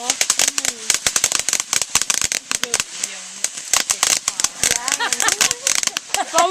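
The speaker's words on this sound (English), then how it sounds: "got fireworks and we're about to go shoot them" Backyard fireworks and firecrackers going off in rapid, irregular cracks and pops, loud and close, with people talking and calling out between and over the bursts.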